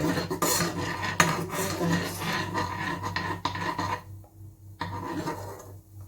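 Butter (Flora Proactive) rubbed and scraped onto soaked bread for French toast in a home kitchen, steady close rasping strokes with light clinks, continuous then briefly pausing, with no talking.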